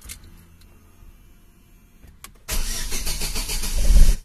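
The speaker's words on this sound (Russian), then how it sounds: "Заводим наш Deo Lexus." A Lexus engine is started after a quiet stretch. A brief crank gives way to a loud, steady engine running close by that swells toward the end.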